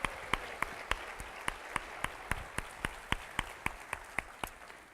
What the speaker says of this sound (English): So let's give these ladies a big round of applause